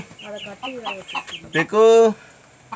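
Native country chickens cluck in a run of short rhythmic calls, followed by one louder drawn-out squawk, close by on a farm, with a voice briefly speaking among them.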